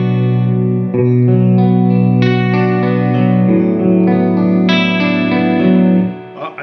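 Electric guitar chords played through a chorus pedal, shimmering and slightly wavering as each strum rings out and sustains.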